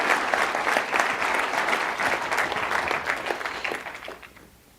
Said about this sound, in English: Round of applause right here